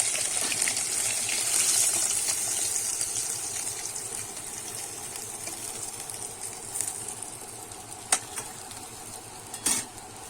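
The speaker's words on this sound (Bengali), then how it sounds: "এবারেতে ওই তেলেতে কিন্তু আমি আলুগুলো ভেজে নেব" Potatoes fry in hot oil in a pan, a steady close sizzle throughout, with a few sharp metallic clinks of a utensil toward the end.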